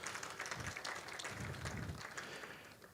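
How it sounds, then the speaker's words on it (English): An audience gives a round of applause at a Uganda climate-smart agriculture project event, a faint, steady wash of clapping from a crowd, heard as distant noisy patter with no voices over it. "Let's give him a special round of applause."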